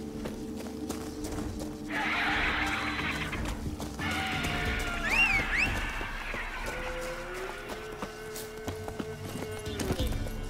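Roach, the horse in The Witcher 3: Wild Hunt, neighs loudly and whinnies with rising and falling cries over a galloping clip-clop of hooves and a steady game backdrop. A short spoken line comes in near the end.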